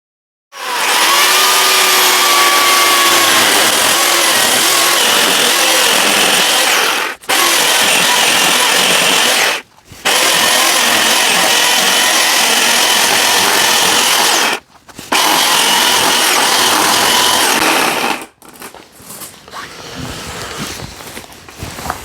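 A power saw cuts loudly into a wooden log in long, continuous bursts, with short pauses between cuts, before stopping and giving way to quieter scraping and handling noises.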